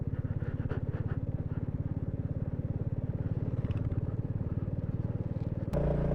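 Motorcycle engine on a mountain road between Padum in Zanskar and Leh, a steady close rumble with rapid firing pulses that holds for about six seconds before the tone abruptly shifts near the end.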